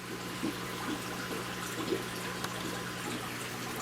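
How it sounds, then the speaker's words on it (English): A water pump drains an aquarium tank, making a continuous low hum under a steady trickle and gurgle of flowing water, with a few faint splashes, close and moderately quiet. "I got my water pump in here. I'm just draining the water"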